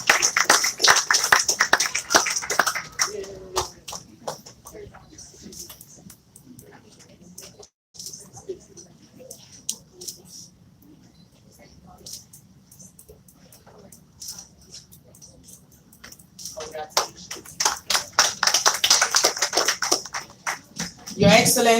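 An audience at a human rights ceremony claps for newly recognized ambassadors for peace, bursts of clapping at the start and end with quieter talk and murmuring between them.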